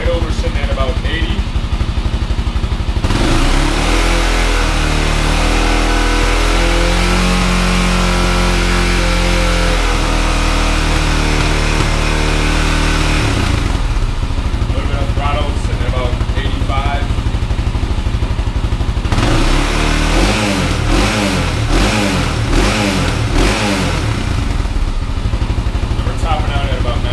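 A Honda 400EX ATV with its stock exhaust runs loud and close, idling with a steady throb, then revving in several sharp surges between stretches of idle.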